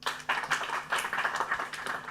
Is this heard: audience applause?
yes